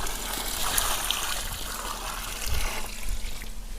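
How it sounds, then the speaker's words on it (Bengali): Water pours in a steady, close gush onto a cement mortar mix of sand on an outdoor village building site, splashing and trickling continuously without speech. "জল দেওয়া হলো মশলায়"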